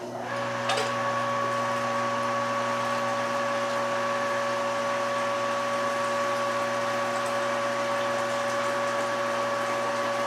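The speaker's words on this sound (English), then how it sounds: "I'm going to pump about 3 gallons to start with over into our mash tun." Electric pump moving hot water into a mash tun while mashing for an American single malt whiskey, a steady, close droning hum with a strong tonal whine and faint liquid rush, unbroken from start to finish.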